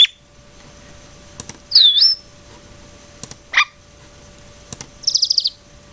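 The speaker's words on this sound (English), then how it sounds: "I'm going to go listen to different birds here" Several distinct bird calls play one after another from a sound library: a swooping whistle, a short falling chirp and a rapid trill, separated by soft clicks against near silence.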